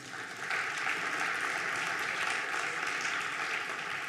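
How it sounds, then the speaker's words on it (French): Steady audience applause at a national conference closing session, a dense continuous patter of many hands filling the room from start to finish, moderately loud with no voices on top. "applaudissez-vous"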